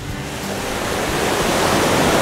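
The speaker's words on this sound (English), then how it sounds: "The waves are big." Big ocean waves roll in on a windy day at Dry Tortugas, a loud broadband rush of surf that swells steadily stronger, with wind buffeting the microphone and no voices.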